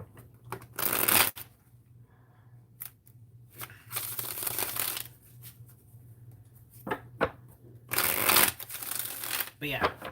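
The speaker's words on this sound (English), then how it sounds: "if you hear me shuffling cards, I am shuffling my old tarot." Old tarot cards are shuffled in several bursts of crisp riffling and flicking close by, with quieter paper handling in between, while someone speaks softly and a low hum runs throughout.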